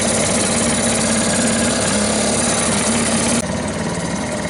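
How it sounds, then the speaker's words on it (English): A small outboard motor drives a boat on open water near a shipping terminal at daybreak, a steady close engine drone that runs without a break and drops slightly in level near the end. "Got a little outboard going now"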